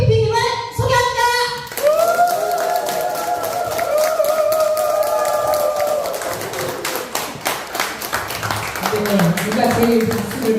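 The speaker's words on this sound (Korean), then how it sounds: "여러분 정말 열정적인 박수를 보내주셔야 됩니다" An audience at a nursing group lecture claps to welcome a group leader to the stage, a dense, sustained round of applause over music with a sustained tone, with voices mixed in.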